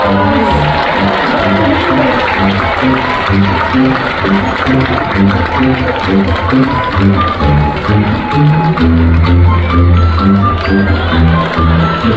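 Audience applause in a cruise ship theater during a magic show, sustained crowd clapping layered over loud music with a strong rhythmic beat throughout.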